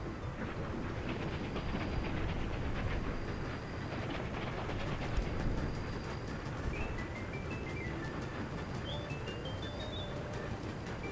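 A train runs on rails in the Soviet-era city-building video game Workers and Resources, a steady rolling rumble throughout with faint bird chirps scattered over it, no talking.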